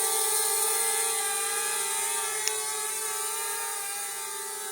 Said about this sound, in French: Bon, c'est un petit drone très lent.